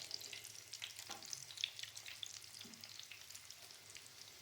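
Vegetable kababs fry in oil over low-medium heat, a faint, even crackle and sizzle with small pops scattered across, quiet and without talk.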